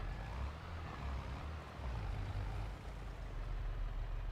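A small tractor in the video game Farming Simulator 22 runs with a steady low engine rumble and drone, continuous and even throughout, with no talk.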